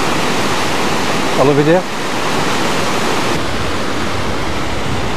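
Eas Fors waterfall on the Isle of Mull roars as a steady broadband rush of falling water, loud and continuous throughout, with a short spoken remark partway through.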